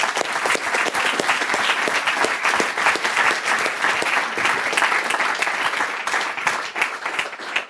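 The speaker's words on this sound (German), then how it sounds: "einen Applaus für euch alle" Sustained, loud applause from a youth hackathon audience at a closing event in Ulm, dense overlapping claps continuing evenly without letup.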